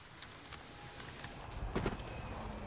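Horse hooves clip-clop in the video game Ghost of Tsushima, a faint rhythmic patter of several steps with a louder thud near the middle over quiet ambient background.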